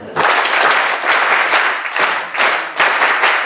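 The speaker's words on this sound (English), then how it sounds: "And clap." An audience clapping together in a theatre, in several dense bursts with brief dips between them, loud and close.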